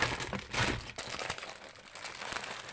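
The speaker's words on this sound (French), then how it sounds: "je remets tout dans la poche" Items are pushed back into a crinkly plastic bag, giving close, soft crackling and rustling in irregular bursts over a couple of seconds.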